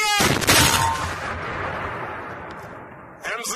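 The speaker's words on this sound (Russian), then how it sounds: "Выстрел!" A tank cannon fires a single shot, a loud close blast that booms and then decays slowly over a few seconds, with voices speaking just before and right after.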